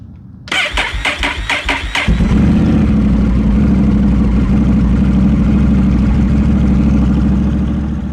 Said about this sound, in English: Now I'm going to start the bike to get the engine warmed up.